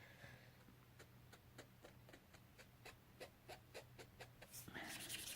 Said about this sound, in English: Oh, it's starting to squeak.